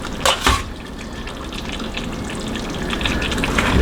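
Pasta stirred into a creamy chicken and mushroom sauce in a pan: a steady wet sizzle and squelching stir, with a couple of louder clanks at the start, growing slightly louder toward the end.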